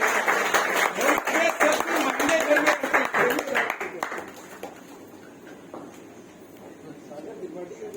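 Audience applause at a naatiya mushaira welcoming poet Sagar Tripathi, a burst of dense clapping that is loud for about four seconds, then thins to scattered claps with voices in the background.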